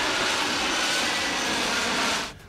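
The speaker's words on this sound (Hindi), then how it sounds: "घातक F-35 लड़ाकू विमानों को एयर ड्रिल के लिए दक्षिण कोरिया भेजने का ऐलान कर दिया, जो आसमान में गरजकर दुश्मन को दहलाने के लिए जाने जाते हैं" Loud, steady broadband roar of F-35 fighter jets passing overhead during a US–South Korea air drill, sustained without break and cutting off abruptly at the end.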